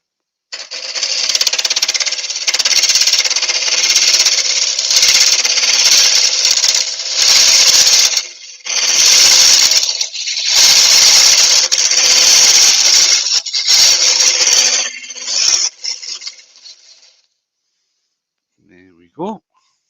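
A round scraper works across the bottom of a piece, giving sustained rasping, scraping strokes in long loud bursts with short pauses, close up, ending quietly with a brief voice at the end.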